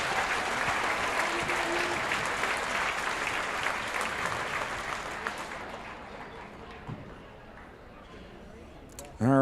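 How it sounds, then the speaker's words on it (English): Loud, sustained applause from a large crowd at a high school basketball game fills the space, with scattered cheers, gradually thinning out before a brief burst of noise at the end. "please give a round of applause for our officials tonight"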